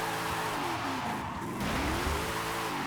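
Car drifting with tire squeal in Forza Horizon 5, a steady engine drone with sweeping pitch glides as the tires slide, loud and continuous without pause.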